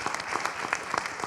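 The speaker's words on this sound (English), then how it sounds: "A round of applause for Badea" An audience at a health-and-technology breakfast event applauds the moderator, a brief, fairly faint patter of many hands clapping with no talk over it.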